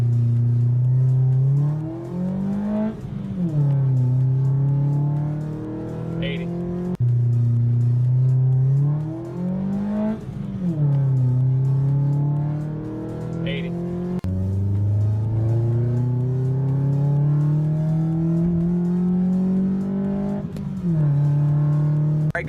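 A tuned Mitsubishi Lancer fitted with a tuning chip accelerates hard from a standstill to 80, its engine revving up through several gears with clear drops at each shift, loud and close inside the car.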